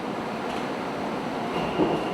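A subway train in Korea running steadily, with a continuous broadband rumble and rattle throughout and a faint high squeal near the end, with no voices.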